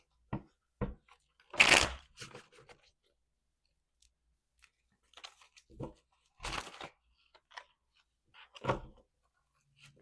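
Tarot cards are shuffled by hand at close range in short, separate bursts of riffling and soft clicks, with quiet gaps between them.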